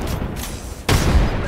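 A frag grenade goes off in a video game: a sudden loud, broad burst about halfway through that stays heavy and rumbling to the end, with lighter in-game noise before it and only faint traces of voice.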